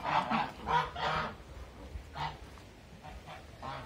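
Geese on a farm with ducks and pigeons give several loud, nasal honks in uneven bursts, close by, with quieter calls between them.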